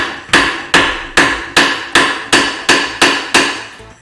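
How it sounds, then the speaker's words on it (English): A hammer strikes metal nine times in steady, evenly spaced blows, loud and close, tapping a loose ball joint out of the control arm clamp on a Porsche 944 Turbo. "All you got to do is just kind of tap on it with a hammer"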